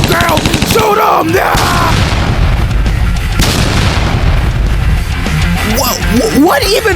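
Loud, dense gunfire from a shotgun in a shooter video game, repeated blasts overlapping with game effects throughout, while a player talks over it.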